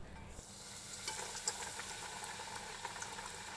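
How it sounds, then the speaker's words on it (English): Breaded chicken katsu deep frying in hot oil, a steady close hiss of bubbling and crackling with a few sharper pops, continuous and alone throughout. "deep fry until cooked through."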